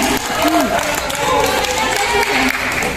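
An audience at a solo parents' council chapter gathering in Pangasinan claps together in a dense burst that lasts throughout, with voices mixed into the applause.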